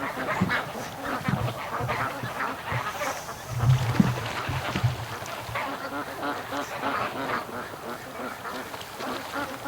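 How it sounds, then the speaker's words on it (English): Dense chorus of geese and ducks calling at a lake over steady outdoor ambience, many overlapping honks and quacks at moderate distance, continuous throughout. "I can hear the geese though."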